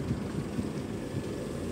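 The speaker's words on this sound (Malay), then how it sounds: "kat sini angin kuat and mikrofon dia pun cukup bagus" Strong wind blowing outdoors, captured on a handheld Xiaomi 15T phone microphone: a steady, loud low rumble with constant buffeting and no speech.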